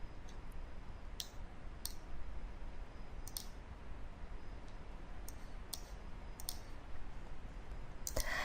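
Computer mouse clicks on software buttons, about a dozen sharp, faint clicks spaced irregularly, some in quick pairs, over a quiet background hum.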